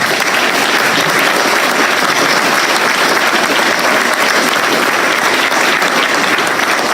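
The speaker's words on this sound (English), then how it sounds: "we get a round of applause for" Loud, close, sustained applause from a live audience at the end of a podcast event on the state of the economy, a thick unbroken roar of many hands clapping for nearly seven seconds.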